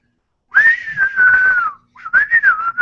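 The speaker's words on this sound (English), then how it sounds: "How does someone whistle out words?" A person whistles two warbling, tune-like phrases close by, one long phrase then a brief pause and a shorter one, loud and clear with no other sounds.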